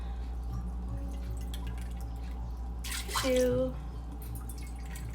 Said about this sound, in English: So I'm going to add in water 3 times.